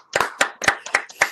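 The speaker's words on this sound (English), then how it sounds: "Clap it up, y'all." Five sharp hand claps in a steady rhythm, close and fairly loud, with no talking over them.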